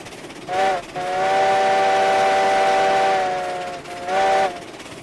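A Heisler steam locomotive in the RailRoads Online video game sounds its steam whistle loud and close: a short toot, a long sustained blast, then another short toot, over a low running rumble.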